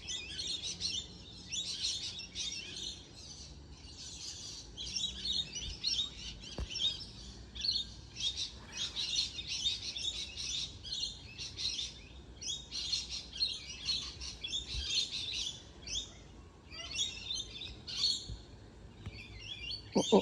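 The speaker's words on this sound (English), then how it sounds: "I looked up to look at a bird" Small birds chirp and sing steadily outdoors, a dense run of bright tweets and trills repeating throughout at moderate distance, with no voices.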